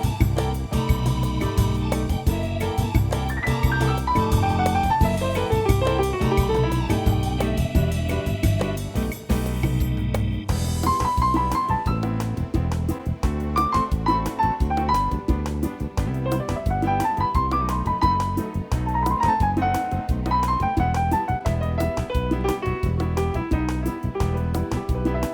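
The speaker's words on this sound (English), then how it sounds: "Now I can play something with a bossa nova feel that sounds like this." A Yamaha DGX-660 digital piano plays a bossa nova style arrangement with an intro, with steady bass, light syncopated percussion and piano melody running continuously and clearly without talk.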